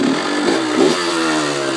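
A cold 2002 Kawasaki KX85 dirt bike engine revs loudly up close, buzzing two-stroke note rising in a few quick blips before settling into a steady high drone.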